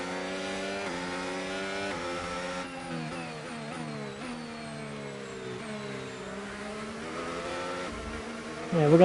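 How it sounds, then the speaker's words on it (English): Several Formula 1 race cars in the F1 25 racing game whine along in a steady, sustained engine drone on the reverse Zandvoort circuit, with pitch shifting slightly as they chase, and a louder burst at the very end. "we're gonna have a bunch of cars chasing us now"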